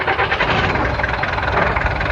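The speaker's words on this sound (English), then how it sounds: "Engine." A taxi engine idles with a steady, loud, broadband rumble, continuous throughout with no pauses.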